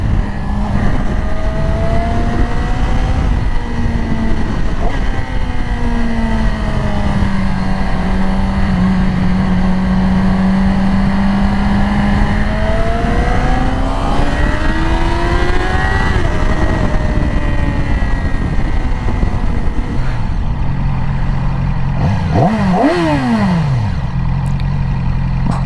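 A Yamaha R6 sport motorcycle ridden hard, its engine screaming loud and close through rising and falling revs across repeated gear changes, with a sharp high-pitched rev sweep near the end.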